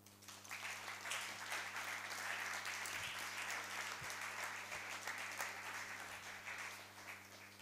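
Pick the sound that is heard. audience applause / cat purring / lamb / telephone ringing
audience applause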